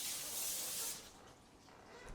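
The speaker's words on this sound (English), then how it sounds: "I spray the pan like this when I'm on off season." Cooking spray hisses onto a pan in one steady close burst lasting about a second, then fades into a quiet tail.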